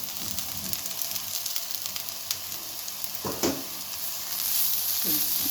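Roasted okra (bhindi) hits hot oil in a pan, giving a steady, close sizzling and frying hiss with a few soft stirring scrapes, rising slightly louder near the end.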